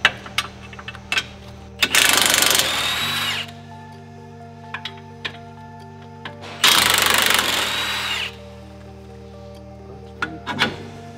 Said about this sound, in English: Then I'm gonna grab my 18 on my impact and take off the two nuts on the bottom of the shock.